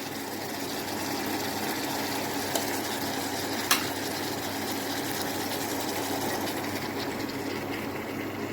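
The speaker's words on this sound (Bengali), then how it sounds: "এবার আমি এর মধ্যে মটরশুঁটিটা অ্যাড করে তারপর কষাবো।" Green peas stir-fry in a pan with salt for ghugni, giving a steady close sizzle and frying hiss that runs without a break. A couple of brief clicks from the utensil come through, and no one speaks.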